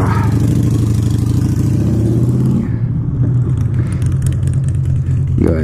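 A 2019 Triumph Street Triple R motorcycle idles loudly and close, a steady throbbing engine rumble with a brief dip and a light blip near the end.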